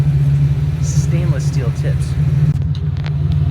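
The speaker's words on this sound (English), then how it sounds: "what a single in, two out Flowmaster 440 muffler sounds like with stainless steel" Exhaust note from a 1988 Ford Bronco II fitted with a Flowmaster 44 single-in, dual-out muffler and 3-inch stainless tips, a steady loud low rumble idling close by while someone talks over it.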